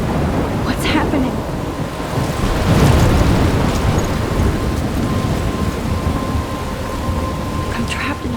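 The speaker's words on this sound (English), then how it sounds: "I'm trapped in a storm?" Thunder rumbles and rain pours down steadily in the 奇妙人生 game storm, a loud continuous wash with deep rolling swells and gusts.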